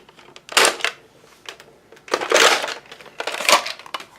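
A Nerf Recon CS-6 toy blaster is worked by hand, giving three separate plastic clacking and ratcheting bursts with short quiet gaps between them, close and fairly loud.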